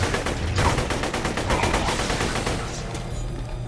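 Rapid assault rifle fire from Borderlands 2, a dense run of loud, evenly spaced shots rattling continuously with no pause and no voices.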